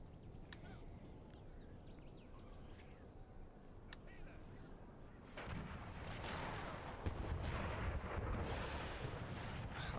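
Cannon artillery fires in an Empire Total War battle, a distant rumbling barrage of booms under a steady noisy battlefield bed that grows denser and louder toward the end.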